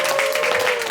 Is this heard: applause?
yes